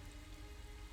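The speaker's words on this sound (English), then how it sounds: "It's raining." Steady rain pours in the detective game Master Detective Archives: Rain Code, a dense even hiss with no breaks, moderately quiet and alone with no voices.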